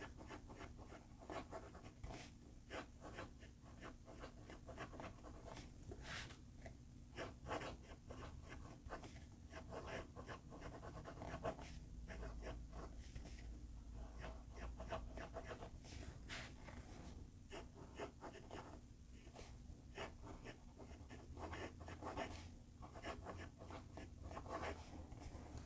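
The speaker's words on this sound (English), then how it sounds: "Let's do a more extensive writing sample." A Moonman M100 fountain pen with a Bock titanium nib scratches and glides across paper in a long run of close, quiet strokes that start and stop irregularly, with no talking.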